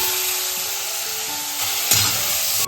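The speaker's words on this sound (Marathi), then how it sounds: "सारण व्यवस्थित कढईमध्ये घालून घेतोय तेल चांगलं तापलेलं आहे" Steady loud sizzling of a sweet churan filling frying in hot oil in a wok over a wood-fired stove, with a sharper burst of crackle partway through as more is stirred in.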